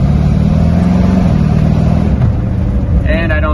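A 1929 Ford Model A fitted with Corvette parts accelerates with a loud, steady low engine roar close by. The note climbs in pitch toward the end.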